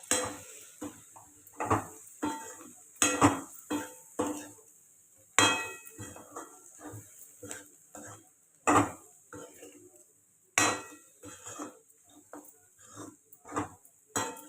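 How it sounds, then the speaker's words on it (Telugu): A spoon stirs and mixes curry in a cooking pot, with repeated scraping, knocks and metallic clinks in irregular bursts over a faint sizzle, separated by quieter pauses. "బాగా మిక్స్ చేసుకోవాలి"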